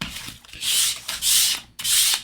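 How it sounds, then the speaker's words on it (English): Three rhythmic strokes of fine sandpaper rubbing across a hard plastic part of a 1:76 USS Constitution model kit, deburring it, a bright scratchy hiss repeating close up with short pauses between passes. "it's not a big sanding. It's just kind of making sure that there's no burrs"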